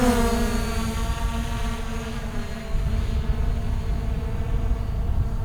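Hubsan Zino quadcopter drone hovering and moving out a short distance, a steady loud propeller whine with layered harmonic tones that shift slightly as it climbs, continuous for the whole span with no talking.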